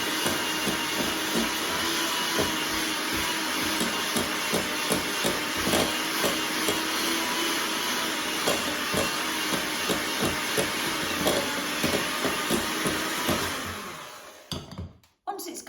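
An electric mixer whips butter and sugar, whirring loudly and steadily with a faint rhythmic beating, then cuts off abruptly near the end.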